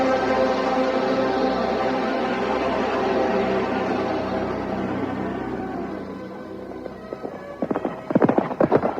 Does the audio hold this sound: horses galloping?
yes